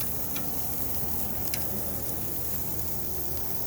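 Steaks sizzling in a hot pan give off a continuous even hiss with small crackles and pops, steady and unbroken from start to finish with no talking.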